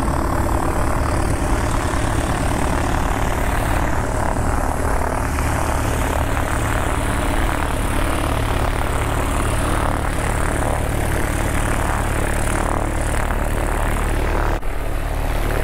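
Propeller airplanes leaving a small private airfield after an EAA chapter luncheon at Ridge Landing: a loud, steady engine and propeller drone close by that holds throughout, with a brief dip near the end.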